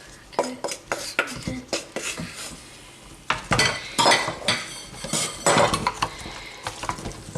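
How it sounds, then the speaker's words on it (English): Cauliflower pieces for a tikka masala stirred around in a pan, with a spoon clanking and scraping against the metal in uneven bursts, fairly loud and close with no talking. "I'm going to stir that around as well"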